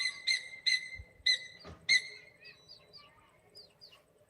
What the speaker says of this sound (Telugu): అది అరిస్తే మాత్రం ఎంత పెద్ద సౌండొస్తుందో